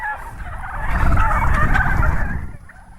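A flock of farm turkeys gobbling loudly and close together, a dense overlapping chorus of gobbles that swells in the middle and fades slightly toward the end.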